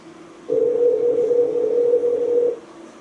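A steady telephone dial tone sounds for about two seconds while a number is being called, loud and unbroken, with quiet room noise before and after.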